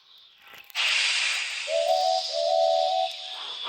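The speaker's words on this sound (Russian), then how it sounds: "И со своим прекрасным свистком" A toy-style steam train lets out a rush of steam hiss, then sounds two short, clear whistle blasts over the continuing hiss.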